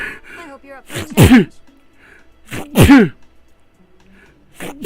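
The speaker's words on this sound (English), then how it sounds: "God, that was a sneeze for the ages." Two loud sneezes from a man, the second at least as forceful as the first, each bursting out sharply between stretches of quieter talk.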